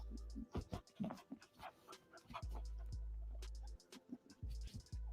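A puppy, grown big, pants and snuffles in short breathy bursts with small whimpers and yips, close and fairly quiet, with occasional low thumps between breaths.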